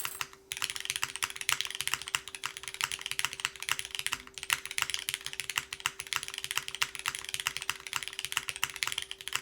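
Steady, fast typing on an aluminum top-mount mechanical keyboard, dense clacking keystrokes with a full, solid tone, close and continuous with no talking.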